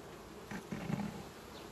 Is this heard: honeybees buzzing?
yes